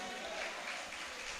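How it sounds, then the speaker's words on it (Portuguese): Brief burst of congregation applause in a Portuguese-speaking church service, a dense wash of clapping hands heard alone for a second or so at steady, moderate loudness. "Aplauda a Jesus."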